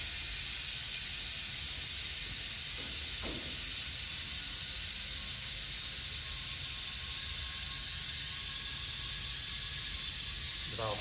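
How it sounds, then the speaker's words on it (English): Compressed air rushes into a double-acting cylinder to close a knife gate valve, a steady broadband hiss running the whole way, with a couple of faint mechanical clicks near the start and end. "because it's double acting, we put air into the other side of the cylinder"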